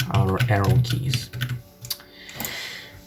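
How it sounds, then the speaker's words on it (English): Someone talks over quick clicks of computer keyboard arrow keys, pressed a few times in short bursts close to the microphone. "move the rectangle with our arrow keys."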